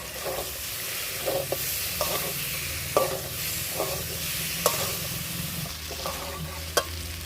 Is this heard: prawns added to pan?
yes